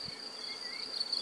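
A honeybee swarm being captured outdoors gives a thin, steady buzzing hum, faint and continuous, with no voices over it.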